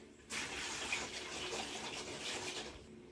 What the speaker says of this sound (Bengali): তো এই ডিমগুলো এখন ধুয়ে